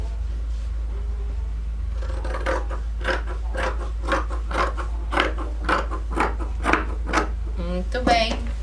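Scissors snip through coat fabric in a steady rhythm of about a dozen crisp, close cuts, each a short scratchy crunch, ending with a brief slide of the blades.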